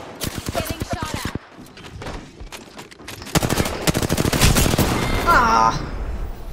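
Automatic weapons fire in Apex Legends comes in loud, rapid bursts, a fast rattle of shots that stops, then resumes as denser volleys, while a player talks over parts of it.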